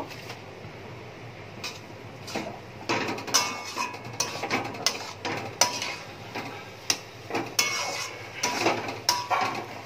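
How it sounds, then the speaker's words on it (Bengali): A spoon mixing sugar into ash gourd curry in a pot, producing repeated scraping and clinking strokes against the metal, close and uneven, with no talking. "এবার দেখো এটা চাল কুমড়োর সাথে ভালোভাবে একটু মিশিয়ে নেব।"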